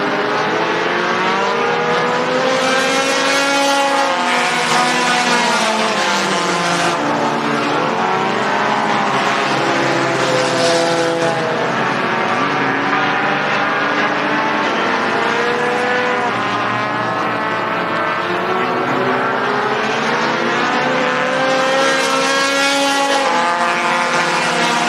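Sport compact race cars racing at Mohave Valley Raceway, engines revving and shifting continuously as multiple cars pass, a loud sustained roar of rising and falling engine tones.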